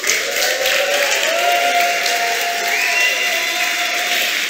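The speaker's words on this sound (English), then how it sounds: "Let's have a huge round of applause for Ola." Conference audience at a JSConf talk applauding the speaker Ola, a steady wash of clapping with some crowd murmur, moderately loud and sustained throughout.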